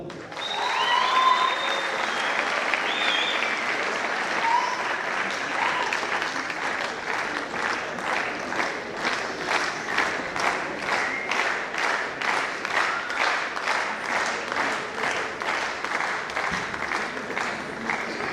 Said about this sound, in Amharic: ለሚካኤል ይሄ ነው እንደ ጭብጨባ አሸናፊ ነው